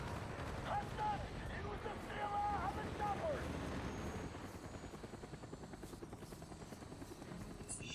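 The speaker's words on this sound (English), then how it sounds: "Damn choppers." Helicopters in the Call of Duty: Black Ops video game, a steady rotor thrum with whistling engine tones and game effects, heard at moderate level under a faint background and continuing throughout.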